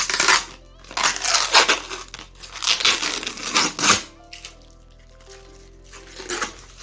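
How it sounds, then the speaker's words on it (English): Crinkling and tearing of plastic packaging as a robot vacuum cleaner part is unwrapped, with bursts of rustling and crackling, then quieter handling noises near the end. "let's unwrap this part that we couldn't finish up in the beginning"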